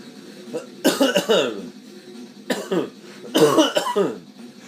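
Three bursts of harsh coughing, close and loud, separated by short quiet pauses.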